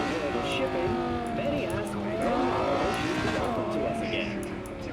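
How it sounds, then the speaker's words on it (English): Cars collide and scrape in Cyberpunk 2077 as a vehicle plows through traffic, with engine drone, tire noise and repeated impacts running continuously over several seconds at a steady loud level. "I'm literally hitting every single car on the way."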